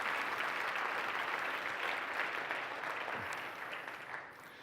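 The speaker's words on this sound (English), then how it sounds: "Give these guys a huge round of applause." An audience at a conference keynote applauds in a dense, steady wash of clapping that slowly thins and fades toward the end, with no talk over it.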